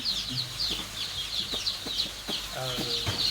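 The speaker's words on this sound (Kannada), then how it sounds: "ಕಲರ್ ಕೋಳಿ ಮರಿ" Colourful country (native) chicks cheep steadily in high, repeated calls, with an adult hen clucking low near the end, close by on a farm while a voice speaks briefly under them.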